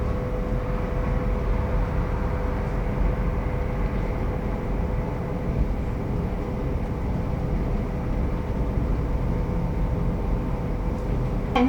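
Steady low rumble of a GWR train running on rails between Plymouth and Penzance, continuous and even throughout, with a faint tonal hum riding over the rolling noise.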